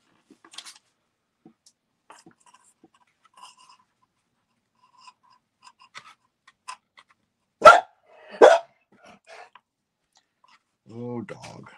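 Dog barking indoors in a quiet workshop: two loud, sharp barks close together near the middle, followed later by a short whining yip, with faint scattered small noises between.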